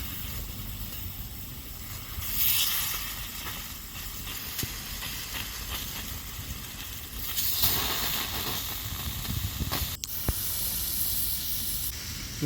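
Beetroot slices sizzle in oil on a dosa pan in a village kitchen. A continuous broad hiss holds steady throughout and swells louder for a few seconds twice.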